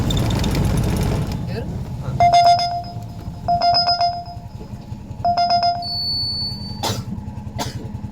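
Ride-hailing app booking notification ringtone on a phone in an auto-rickshaw, repeating in several short electronic beeping bursts over a low engine rumble, loud and close.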